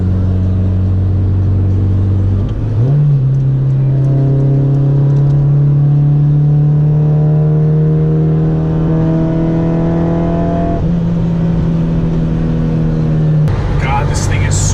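A Honda VTEC car engine revs hard under acceleration, its steady drone climbing in pitch with a rising harmonic whine before a sudden drop near the end, loud and close from inside the cabin.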